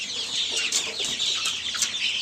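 A flock of chickens clucks and chatters continuously nearby, a dense layer of overlapping calls.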